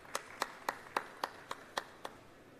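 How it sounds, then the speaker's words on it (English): A short run of sharp, evenly spaced claps for conference panelists, about eight in a steady rhythm, fairly faint, like a small group or a single pair of hands applauding. "please let's give the panelists a round of applause."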